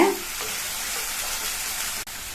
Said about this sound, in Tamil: நல்லா இந்த புதினா விழுதை வத்துற வரைக்கும் இந்த மாதிரி கிண்டி கொடுத்துட்டே இருங்க.